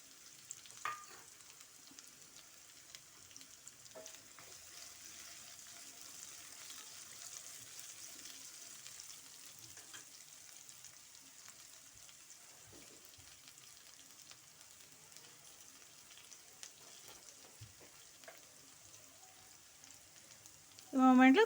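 Dried red chillies and curry leaves frying in a pan for a bottle gourd dish give a steady, quiet crackling sizzle throughout, with a louder burst of sizzling right at the end; no one talks.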